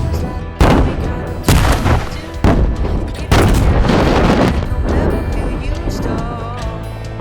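Explosive charges detonate for avalanche control in snowy mountain terrain, several loud booming blasts in succession with sharp onsets and rolling echoes decaying between them, no speech.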